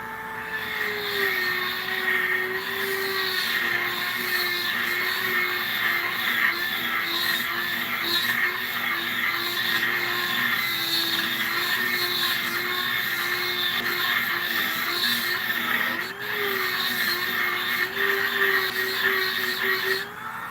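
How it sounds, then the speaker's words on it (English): A carbide bit grinding out the bolt hole of a Volvo 244 brake caliper for a Volvo 164E, a steady high whining drone held close and constant, with a brief dip in pitch near the end. "These carbide bits, they chew up some material."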